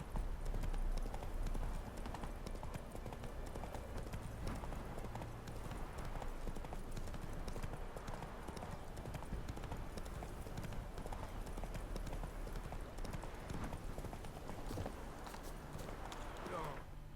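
Horse hooves clip-clop at a steady gait in the video game The Witcher 3, continuous rhythmic clopping throughout at moderate loudness.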